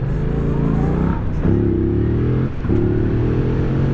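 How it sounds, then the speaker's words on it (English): A Yamaha MT-07 with its 689 cc CP2 twin engine revs in two bursts, each rising growl dropping back briefly before climbing again, loud and close with no talk. "when you open it up, you really do get that growl"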